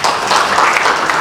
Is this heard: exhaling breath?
no